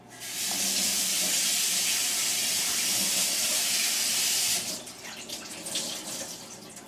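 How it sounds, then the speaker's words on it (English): A kitchen tap runs in a strong, close, steady hiss while a cleaning cloth is rinsed beneath it. The flow stops and a few softer splashes and drips follow. "I'm going to rinse my cloth while I'm here."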